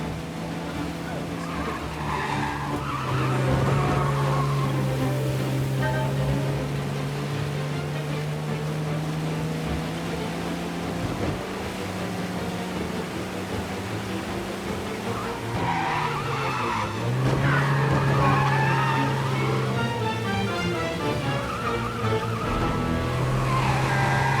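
Cars in the Mafia Definitive Edition game rev and skid loudly with tire squeal, the engine droning steadily for about twenty seconds under a blend of game sound and music.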